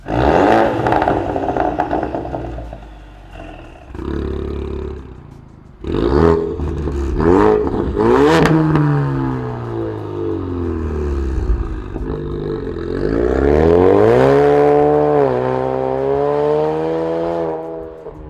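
A Ford Mustang EcoBoost with a Ford Performance by Borla Extreme cat-back exhaust revs loudly and close, several throttle blips rising and falling with a rough, crackling tone, no talking.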